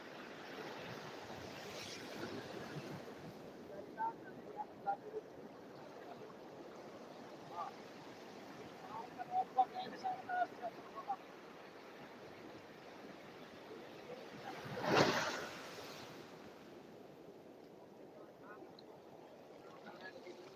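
Ocean waves wash onto a southern beach where swimming is forbidden, making a soft continuous surf hiss with wind noise, one fuller swell breaking midway, and faint scattered sounds in the background.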